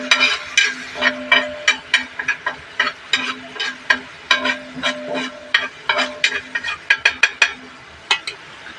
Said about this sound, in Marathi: थोडंसं मिक्स करत राहायचं, जेणेकरून सगळं मिक्स होईल.